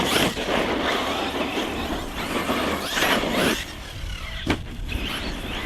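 A Hobby King Berserker RC car on 4S power runs across loose gravel, its tyres scrabbling for grip under a steady whine and crunch, with a short sharp burst near the end.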